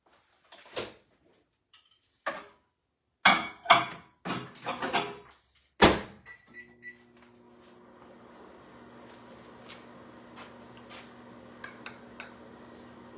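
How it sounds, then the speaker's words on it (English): Clicks and clunks of a door shutting and buttons being pressed, then a steady low electric hum as a microwave starts running. "Pop it in the microwave."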